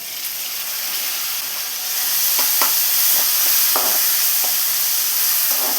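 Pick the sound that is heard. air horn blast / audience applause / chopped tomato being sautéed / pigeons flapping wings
chopped tomato being sautéed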